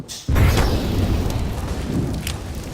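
Grenade blast in CS:GO during a pro match: a sudden loud, deep boom after a brief quiet lead-in, followed by a sustained roaring rumble and crackle that fades only slowly.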